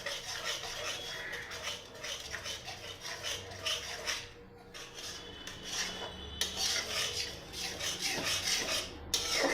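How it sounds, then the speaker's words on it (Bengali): A spatula scrapes and stirs ingredients frying in hot oil in a pan, a steady rasping rub repeating close by for several seconds with brief pauses. "গরম তেলে দিয়ে ভালো করে নাড়িয়ে চালিয়ে নিচ্ছি, কষিয়ে নিচ্ছি ভালো করে।"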